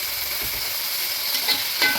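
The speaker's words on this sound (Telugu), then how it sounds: "ధనియాలు, గసగసాల పేస్టు వేస్తున్నామండి. అది కొంచెం పచ్చిదాన్ని పోయేదాకా చేద్దాం." Coriander and poppy seed paste fries in a pan for a Pandugappa fish curry with methi leaves, a soft steady sizzle with a few faint clicks near the end.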